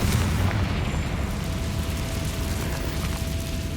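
Confringo spell explosion in the video game Hogwarts Legacy, heard as a loud, sustained low rumbling roar that fills the whole stretch without a distinct sharp onset.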